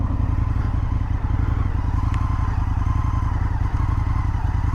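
An Indian FTR V-twin motorcycle engine idles loud and close in a steady, even pulsing throb, with no voices.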